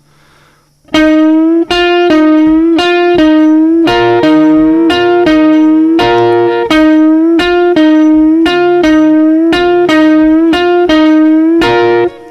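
An electric guitar plays the intro riff, sharp, evenly spaced repeated notes, loud and close, after a brief quiet start.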